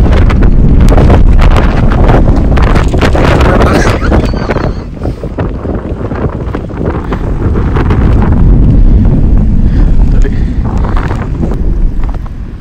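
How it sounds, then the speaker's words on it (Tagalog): Strong wind in a snowstorm roars and gusts straight into the microphone, loud and continuous throughout with buffeting surges that rise and fall. "Pasensya na po bigla pong lumakas ang hangin."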